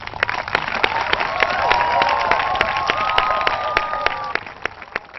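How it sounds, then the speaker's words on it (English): A quiz show audience applauds its semi-finalists, sustained clapping from a room of people that swells and then thins out, with a few sharper individual claps standing out near the end. "Give them a huge round of applause"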